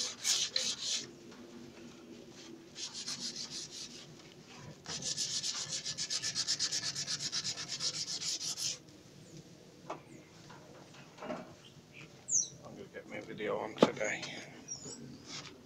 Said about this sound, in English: I've got normal sandpaper.